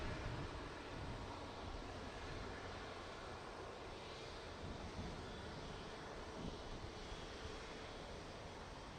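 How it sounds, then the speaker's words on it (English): An Air France Airbus A350 jet airliner inbound from Paris to Toronto airport passes as a faint, distant broadband roar under wind-like outdoor noise, steady throughout. "Air France Airbus 350 inbound from Paris."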